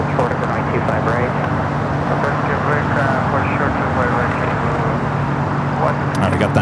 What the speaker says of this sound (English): we got that 777, now we're starting its roll down at 25 right here on the south side